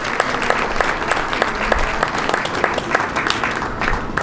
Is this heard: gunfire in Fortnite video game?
no